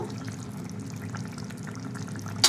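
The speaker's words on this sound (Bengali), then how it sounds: "আর একটু কাঁচা সর্ষের তেল দিয়ে দেবো" Raw mustard oil poured into a simmering Bengali bata fish curry with chillies, a soft continuous liquid trickle over low bubbling, close and quiet, ending in a brief clink.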